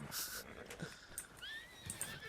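Horse whinnying in Red Dead Redemption 2, a shrill rising and falling neigh with a second cry, mixed with light game ambience and faint hoof sounds.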